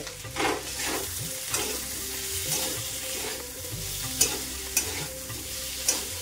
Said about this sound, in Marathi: आणि बटाटे छान आता परतले आहे।